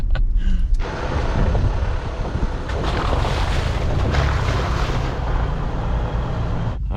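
Jeeps wading through a boulder-strewn river crossing on a scenic dirt trail, with a steady loud wash of churning water and engine rumble, heavy wind buffeting on the microphone.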